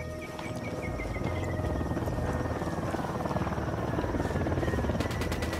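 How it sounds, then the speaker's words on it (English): A helicopter's rotor chops loud and steady in Ghost Recon Wildlands as it approaches. The pulsing beat is dense and constant throughout, with faint engine whine above it. "Chopper's approaching."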